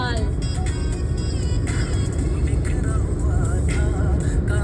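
A Wagon R car speeding along a road at around 100 to 120 km/h, with steady loud engine and road roar from inside the cabin, wind rush and intermittent rattles throughout.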